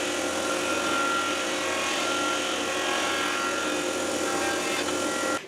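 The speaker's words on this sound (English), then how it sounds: "let me take this to my saw and cut off the ends and run it through my planer to clean off the excess epoxy" A saw and planer cut and plane an epoxy-laminated wood piece with 35 layers, producing a loud, steady, dense machine roar that runs without a break and then stops abruptly at the end.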